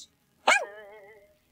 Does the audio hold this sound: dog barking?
yes